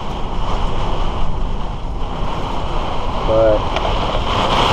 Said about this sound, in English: That's some strong wind, that's crazy.